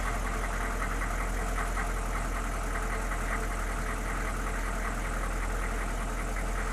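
A GM 6.5 turbo diesel engine idles steadily after a restart, a continuous rough, knocking rumble with a broad roar held at an even level throughout, close and loud with no talking.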